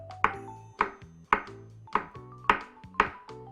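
A knife slicing avocado into thin pieces on a cutting board, with six crisp, evenly spaced cuts landing close and clear, each with a short board knock and no talking.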